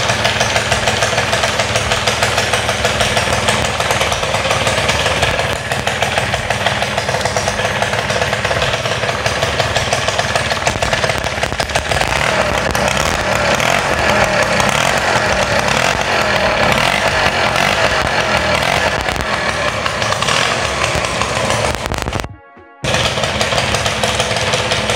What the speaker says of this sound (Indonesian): Lihat seperti ini, dan motornya langsung hidup.